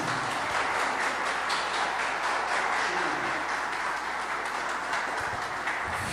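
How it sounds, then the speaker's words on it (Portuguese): Steady applause from a crowd fills the whole stretch, a dense, even patter of many hands clapping without letting up. "trabalho maravilhoso da nossa irmã Cláudia merece os nossos aplausos"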